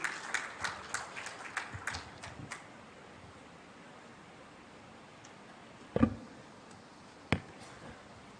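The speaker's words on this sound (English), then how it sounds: "A huge round of applause" Audience applause at a business conference, a burst of scattered clapping that fades within about three seconds, followed by quiet room tone with a couple of isolated knocks.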